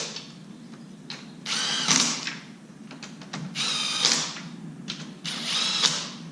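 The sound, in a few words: running bolts down on a V10 engine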